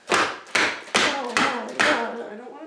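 Hammering with a mallet, five loud, close strikes at a steady beat with a short ringing decay after each blow.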